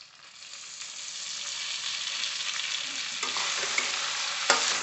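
Chopped tomatoes going into hot oil with fried ginger, garlic and bay leaf, giving a steady close sizzle that builds and grows louder, with a few stirring scrapes near the end.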